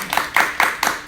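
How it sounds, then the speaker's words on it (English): Hands clap in an audience on a reality show, giving about five quick, evenly spaced claps over roughly a second, close and moderately loud. "Let's give a round of applause."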